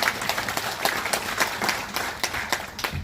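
A seated audience at a direct selling summit claps for about three seconds, a dense, steady patter of many hands heard from nearby.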